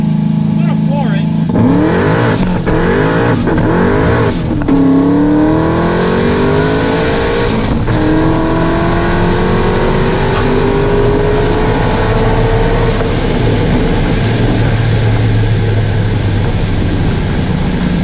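A 1000+ horsepower Corvette at full throttle on a snowy road, the engine roaring up through the gears in repeated rising sweeps with a brief break between shifts, close and very loud.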